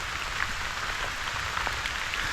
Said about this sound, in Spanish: se disfruta más que esté lloviendo